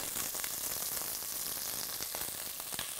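Onions and garlic frying in olive oil over low-medium heat with thyme leaves, a steady, dense sizzle that holds evenly throughout with no voices.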